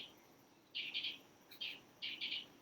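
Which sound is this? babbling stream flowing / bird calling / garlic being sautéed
bird calling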